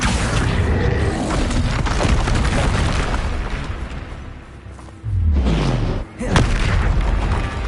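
Incendio fire spells blasting in Hogwarts Legacy, deep booming bursts with whooshing flames, loud and close, then a short lull before another heavy blast.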